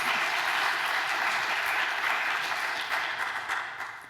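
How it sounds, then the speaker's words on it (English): A crowd applauds warmly, a dense wash of clapping that holds steady and then slowly tapers off. "I think that's worth an applause"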